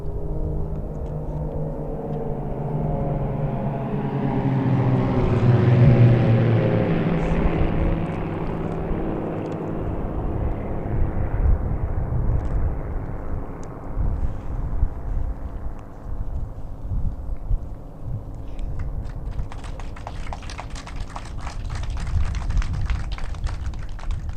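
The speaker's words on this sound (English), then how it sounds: "As they fly over, you'll note he pulls up and away from the formation" Military aircraft fly over in a missing man formation at a Veterans Day ceremony on Mount Soledad, a broad engine roar swelling to a loud peak overhead and then slowly fading into a long distant rumble.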